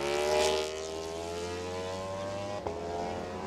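Racing motorcycles with V2 and inline-four engines run on a track during superbike qualifying, a continuous droning engine whine that swells loudest at the start, then settles into a steady distant hum.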